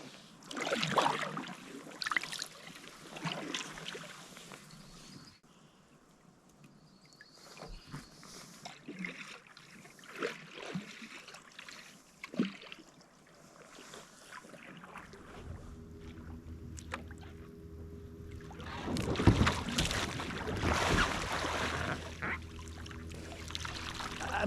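A kayak performs slow Greenland rolls, with quiet splashes and water sloshing around the hull, then a louder burst of pouring, gurgling water as the boat comes back up.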